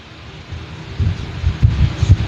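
An electric fan blows air into a USB/XLR dynamic microphone, giving a low, uneven rumbling and buffeting that swells and throbs irregularly, close and fairly loud, with no speech.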